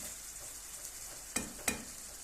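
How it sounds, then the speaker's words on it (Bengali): Tomato is stir-fried in a pan and worked with a spoon, a soft steady sizzle broken by two sharp scrapes or taps of the spoon, faint and close, with no voices. "দেখেন টমেটোটা চামিচ দিয়ে ভালো করে সুন্দর করে লাইটা কষায় নিব।"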